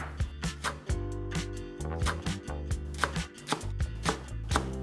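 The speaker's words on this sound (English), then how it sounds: "Cut the onion into a similar way." A knife chops onion on a cutting board for a Korean soft tofu stew, with quick, close, irregular thuds repeating steadily throughout.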